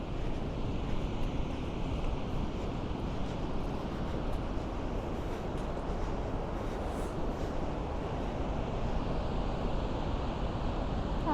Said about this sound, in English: I can hear the sea.